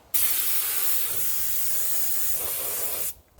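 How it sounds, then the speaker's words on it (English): A paint spray gun sprays a mix of used motor oil and diesel fence stain, a loud steady close hiss that starts abruptly, holds for about three seconds, then cuts off. "Okay, let's try with the painting pistol."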